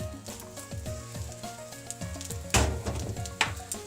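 Rice with soy sauce and sugar is stir-fried in a pan for tofu fried rice, with a steady close sizzle and repeated scraping tosses of the spatula, one louder clatter and sizzle burst midway.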